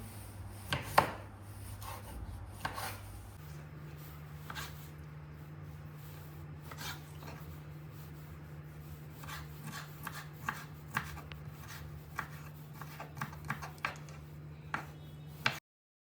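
Three pickled cucumbers chopped with a knife on a board: a run of quick, close, irregular taps and cuts with quiet pauses between, alone and without talk.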